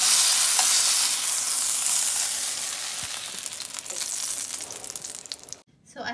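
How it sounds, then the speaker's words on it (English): Loud, steady sizzling of grey snapper frying in oil, crackling and hissing, then briefly quieting near the end before resuming. "and then I'm gonna start frying the next batch."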